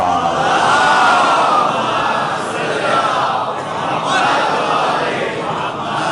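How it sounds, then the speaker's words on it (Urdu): A dense crowd of children and young men chanting religious slogans at a majlis, a loud, sustained roar of many voices rising and falling together, with no separate speaker. "یہ بچے جوان یہ جو نعرے لگاتے ہیں"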